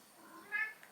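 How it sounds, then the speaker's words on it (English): A pet cat gives one short, faint meow in a quiet room. "You can hear my cat meowing."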